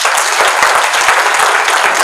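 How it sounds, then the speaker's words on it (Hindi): An audience applauding at a network marketing seminar, a dense, loud wash of many hands clapping, steady and continuous for the whole stretch. "चलिए एक बार ताली बजा लीजिए अपने लिए।"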